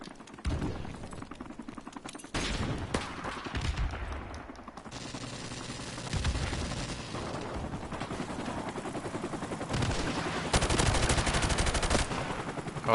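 Gunfire in Call of Duty: Modern Warfare Remastered, with sniper rifles firing non-stop across a multiplayer map: dense, loud bursts of shots and game noise run continuously, swelling in intensity toward the end.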